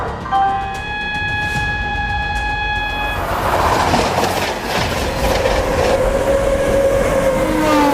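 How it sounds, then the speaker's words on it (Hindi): A passenger train pulling into platform 3 at a busy Indian station during the festival season, with steady rumbling and clickety-clack of wagons, a long horn-like tone early on and a squealing brake near the end, loud and close throughout. "पैसेंजर 3 नंबर प्लेटफॉर्म पर आ रही है"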